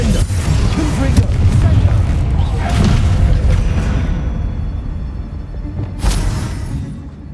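Spell-casting blasts in the Hogwarts Legacy video game, a run of booming thuds and whooshing bursts layered over continuous dense game noise, with a sharp bright burst near the end, while a voice speaks over it.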